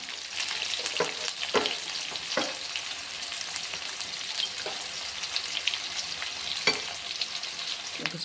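Chopped onions with a spoonful of turmeric crackle steadily in hot oil, a dense high hiss broken by several sharp stirring scrapes, close and fairly loud with no voices.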